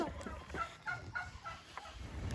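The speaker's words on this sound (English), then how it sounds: "Frank gave a gobble right now." A turkey gobbles faintly at a distance, several quick rattling bursts in a row, low and soft against background noise.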